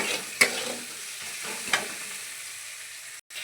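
Onions frying in oil in a pan make a low, steady sizzle, with two sharp clinks of a spoon or spatula against the pan and a brief drop near the end.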